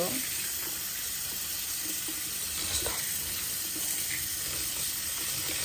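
Rice is washed clean of starch under a steadily running tap in a home kitchen, the water a constant close rush with faint splashes and clinks as the grains are swirled.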